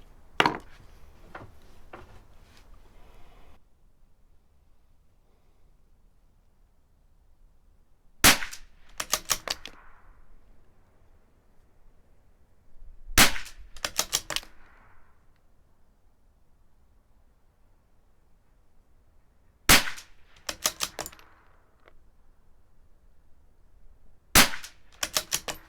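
Five rifle shots from a CZ 457 firing Lapua Polar Biathlon ammunition, loud, sharp cracks spaced several seconds apart, each followed by a brief echoing tail, preceded by faint handling noise.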